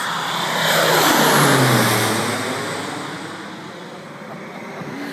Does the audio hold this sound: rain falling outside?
no